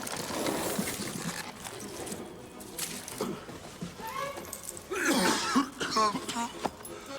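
The king character in the 1993 Super Mario Bros film gives a few short gag coughs and throat-clearing sounds, mixed with film dialogue and background sound.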